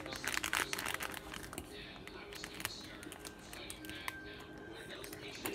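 Scissors cut and crinkle the plastic packaging of a popcorn squishy, with rustling, snipping and tearing sounds close up and a voice speaking at times.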